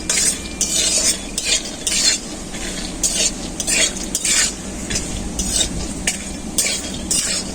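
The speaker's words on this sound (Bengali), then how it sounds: "তেলটা আমার গরম হয়ে গেছে খুব ভালো করে। আর আমি এখানে দেশি বাদাম নিয়ে নিয়েছি, বাদামটা ভেজে নেব।" Native peanuts frying in well-heated oil, with steady sizzling broken by repeated scraping stirs and light clinks of a utensil against the pan, close and without talk.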